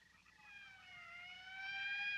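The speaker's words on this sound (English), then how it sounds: "That's the 5th siren in the last hour." Siren of an approaching morgue wagon in a 1957 black-and-white film: a steady wailing tone that rises and swells louder over about two seconds, heard alone with a faint low rumble beneath.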